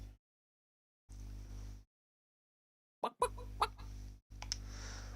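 Clucking chickens from a video game about rescuing chickens, made in a game jam, come in short synthetic bursts with gaps of silence between them, over a steady low hum.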